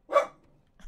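One short, sharp dog bark sounds nearby, loud and alone, followed by a faint trailing noise.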